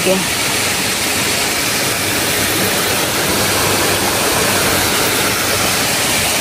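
Floodwater from a high, swollen river pours into a fish pond, a steady loud roar of rushing water that stays constant throughout with no pauses.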